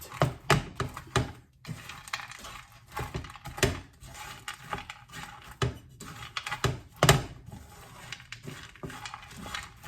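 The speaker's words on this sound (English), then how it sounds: "Continue mixing it till the dates and the cereals are binded." Dates and cereal being stirred together in a bowl, a steady run of close clinking, scraping and crunchy knocks from the spoon against the dish, irregular in rhythm, no voices.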